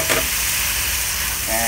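Tomato paste and turmeric fry in a pan, a steady, close sizzle that fills the whole moment without talk.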